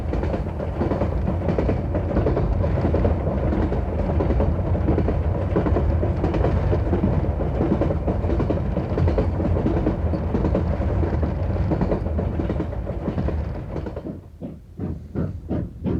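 Steam locomotive 3801 of New South Wales runs on rails along a long straight line near the Western Australia border, a loud steady roar of wheels and train noise lasting throughout, giving way to rhythmic chuffing bursts in the last seconds.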